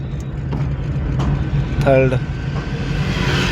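Car engine humming steadily while driving with a learner shifting into second and third gear, a low continuous drone under an instructor's talk, with brief clicks and small shifts in engine tone.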